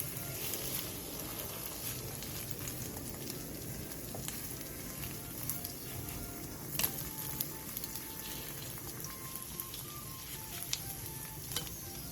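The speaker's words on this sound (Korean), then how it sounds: "중약불에서 앞뒤로 노릇노릇하게 붙여주세요." Tofu pan-fries over medium-low heat, producing a faint, even sizzle and crackle that runs steadily throughout, with a few light ticks and taps above it.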